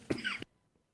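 A single short, close cough breaks an otherwise quiet room, followed by near silence.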